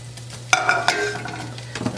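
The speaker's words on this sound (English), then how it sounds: "My butter is all nice and bubbly." Butter bubbling in a frying pan on the stove, a soft steady sizzle under a low hum, broken by a few clear metallic clinks of a utensil stirring against the pan.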